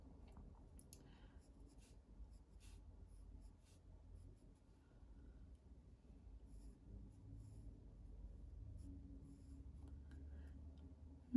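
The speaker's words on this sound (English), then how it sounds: "I'm just doing a rough sketch because I can go over in detail with my pen" Pen or pencil sketching a lighthouse drawing on paper, a faint, steady scratching that runs quietly throughout with light strokes and no talking.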